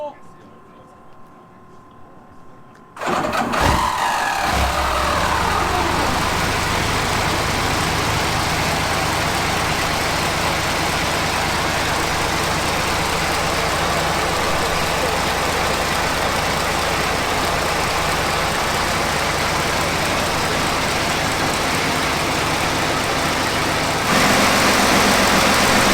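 A marinized engine in a 1929 custom 33-foot triple-cockpit pleasure boat cranks and catches, then settles into a loud, steady rumbling idle that runs on continuously with a slight lift in level near the end.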